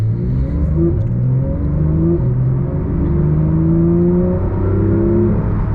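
Porsche 992 GT3 Touring engine pulling hard and loud from a green light, rising tones climbing steadily through several gears with brief drops at each shift, continuous and close.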